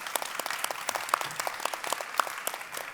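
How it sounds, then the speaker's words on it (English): An audience at the Arabian Travel Market 2025 conference claps for a panel on retaining high-net-worth travellers, a sparse room of distinct individual hand claps ringing out irregularly, fairly close and moderately loud. "please, a round of applause for a fantastic panel"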